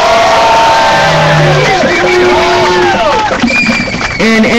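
A crowd at a street demonstration cheers and whoops loudly under a speaker's amplified voice, with shouts rising near the end.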